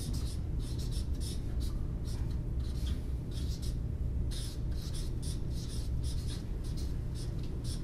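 Marker writing on a paper chart during a speech, a steady run of quick scratchy squeaks and strokes close by, in short bursts against a low background hum, with no talking.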